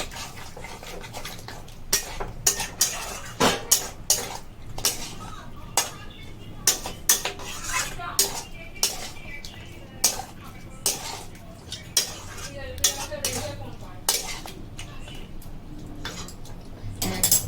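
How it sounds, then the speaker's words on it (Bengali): Mutton with yogurt stirred in a cooking pan, a steady run of spoon scrapes and repeated sharp metallic taps against the pan, close and fairly regular across the whole stretch, with faint background voices. "দইটা দিয়ে একটু কম আছে একটু নাড়াবো"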